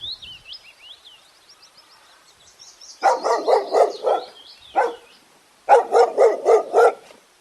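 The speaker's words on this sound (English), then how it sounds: "D for dog." A dog barks in two rapid clusters of sharp, loud barks, each a run of four or five, preceded by high whimpering whines and a single bark between the bursts.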